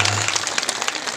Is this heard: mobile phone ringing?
no